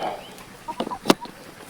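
Chickens by a coop let out a few brief, scattered clucks, the sharpest one in the middle, heard faintly at a moderate distance over low ambient noise.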